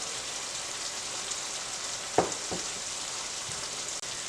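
Awaze tibs meat sizzles steadily in a hot pan, a continuous close frying hiss with a couple of brief louder pops and a faint clink near the end, no voices.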